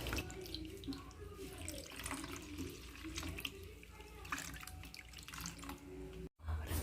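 Water poured into a masala mix while cooking at home, a soft continuous running and splashing with some stirring clatter, quiet and close, briefly cutting out near the end.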